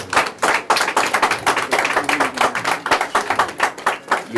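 Congregation clapping loudly and steadily at a temple ribbon cutting led by a bishop during a church service, dense overlapping claps filling the room with faint voices mixed in.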